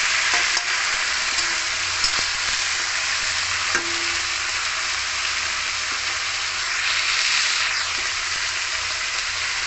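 Mixed vegetables, including yardlong beans and ridge gourd, fry together in a pan for a vegetarian jackfruit-seed curry. A steady, loud broadband sizzle runs throughout, with occasional stirring clicks and scrapes and no talking.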